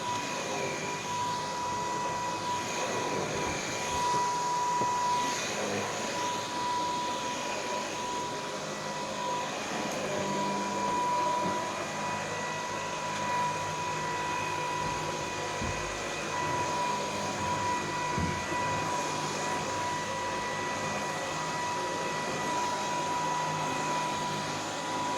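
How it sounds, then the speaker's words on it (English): A cordless stick vacuum cleaner runs steadily for the whole stretch, a constant high whine with airy broadband noise, fairly close and unbroken, no talking over it. "Check out that stick vac action."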